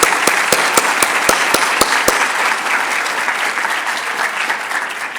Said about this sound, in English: I would really like to have a round of applause for all of these people.